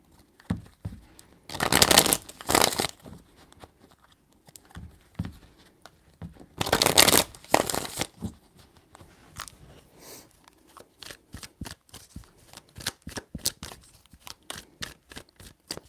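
Tarot cards shuffled in three separate bursts, crisp riffling rattles up close, followed by a run of sharp individual card snaps and taps, no talking.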